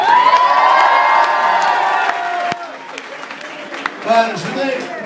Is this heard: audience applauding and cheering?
yes